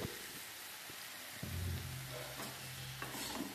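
Snake gourd pieces frying in oil in a pan for bhuna chichinga posto, stirred with a spatula, a continuous soft sizzle broken by several scraping strokes, fairly quiet and close.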